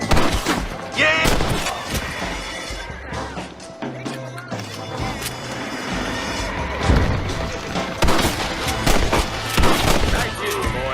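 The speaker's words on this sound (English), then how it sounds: "Nice shooting, boy." Video-game gunfire in Red Dead Redemption: rapid bursts of shots and fusillades ring out repeatedly across the scene, mixed with shouted voices and movement noise.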